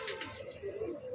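A Kerala breed pigeon coos once in a short, low, rolling phrase, close and clear against a quiet background.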